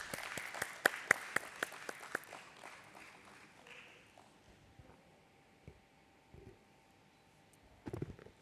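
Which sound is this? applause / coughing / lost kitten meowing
applause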